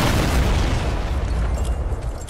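A loud, sustained booming explosion from a guided missile in Fortnite, with a heavy low rumble that fades slowly.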